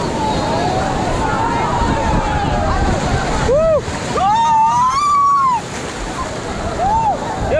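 Big sea waves break and surge at Digha beach in a continuous loud roar with wind buffeting, while people's voices and calls ring out over the surf throughout.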